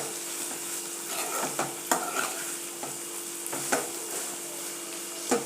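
Spoon stirring dondakaya (ivy gourd) curry in a pan, with soft scraping strokes and irregular clacks over a quiet, steady sizzle, fairly faint and close.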